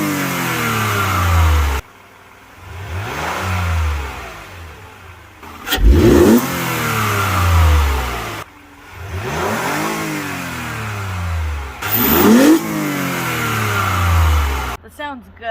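Car engine fitted with a K&N air intake, revved repeatedly from idle: loud rising and falling throttle blips in a steady pattern, each swell followed by a short pause, heard up close.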